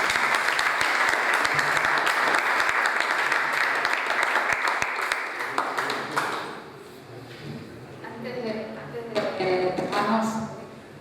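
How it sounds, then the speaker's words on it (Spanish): Audience applause after a book presentation: dense, loud clapping for about six seconds, then fading into scattered claps as a voice begins talking. "Así que aplauso para esta presentación."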